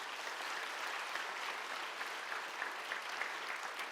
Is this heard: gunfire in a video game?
no